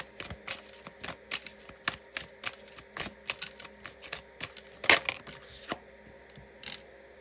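Tarot cards being shuffled by hand, a steady run of quick papery flicks and soft slaps with a few louder snaps, close and alone with no talking.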